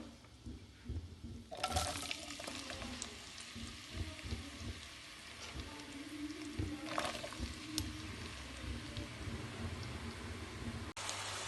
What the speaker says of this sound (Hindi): और इसके साथ अब यहाँ पे मैं प्याज ऐड कर दूँगी इसमें।